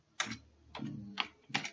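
A computer keyboard is used to type a password, four distinct close keystrokes in quick succession, quiet and alone.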